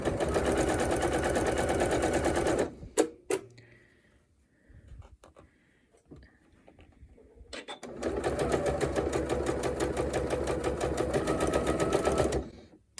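A sewing machine stitching a half circle quilt block runs in a loud, fast steady whir for a few seconds, stops for a quiet pause with a few clicks, then runs again in a long continuous burst.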